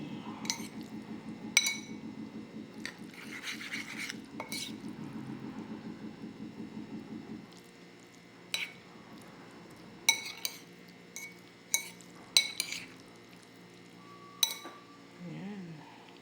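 Indomie instant noodles with a hard-boiled egg are stirred in a bowl, a rapid rhythmic clinking of utensil against the dish at first, then scattered sharp clinks and soft wet squishes, close and quiet.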